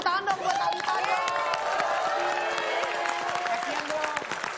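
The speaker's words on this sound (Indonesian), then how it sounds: "Boleh kita tepuk tangan dong buat Thalita dong" Studio audience at a talk show clapping steadily with cheers and whoops, a dense, continuous wash of applause near and loud throughout, with a host's voice faintly mixed in.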